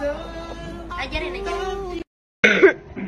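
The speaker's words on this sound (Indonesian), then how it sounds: "Batuk dulu." A person speaks briefly, then after a short silence gives a single sharp cough, close to the microphone.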